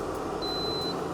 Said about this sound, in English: Oh, and this beeps when it's done.